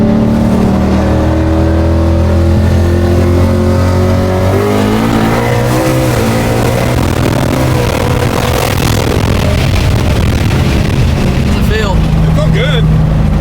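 A car on a track revs hard in third gear on Hoosier tires, its loud engine note rising and then breaking into rough, fluctuating roar as the throttle changes, with a voice talking over it near the end.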